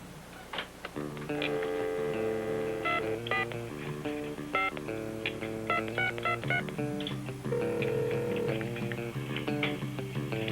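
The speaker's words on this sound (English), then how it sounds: "what we have for you is the actual calling of a phone order" A 1990s phone order call is dialed on a telephone keypad, producing a long run of touch-tone beeps. Steady, fairly loud tones come in quick bursts and short sequences, alone without any voices.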